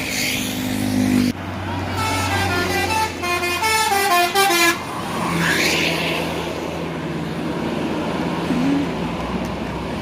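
A bus telolet horn plays a rapid, melodious run of stepped musical tones, loud and close after a sudden start, amid traffic rumble and other horn blasts.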